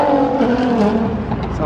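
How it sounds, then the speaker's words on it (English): A Nissan GT-R accelerates hard at a TX2K street car meet, its loud, close engine note droning in one brief continuous burst. "Sounds like a GTR."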